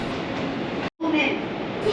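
A local Chuo Main Line train bound for Matsumoto pulls out of Takao Station, a steady rolling rumble of wheels and motors close by, broken by one brief dropout before the rumble resumes.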